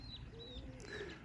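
Roller pigeons of an old hen kit cooing softly nearby, with a few short chirpy calls over a steady low outdoor background.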